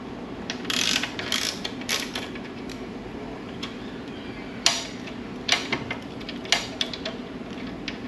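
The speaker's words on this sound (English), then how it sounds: "So I'm going to loosen this pinch bolt up, grab the hex that fits this side" Hex tool loosening the axle pinch bolt on a 2021 Yamaha MT-09 SP motorcycle, heard as a series of close, sharp metallic ratcheting clicks and clanks in irregular bursts over a low background rumble, with no talking.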